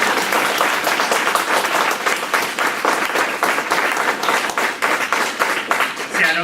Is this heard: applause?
yes